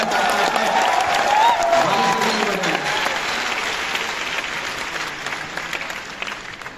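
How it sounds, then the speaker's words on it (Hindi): Loud, dense applause fills a stadium awards event at Thyagraj Stadium, Delhi, a sustained wash of many hands clapping that slowly eases off, with a voice briefly heard over it early on. "जोरदार तालियां"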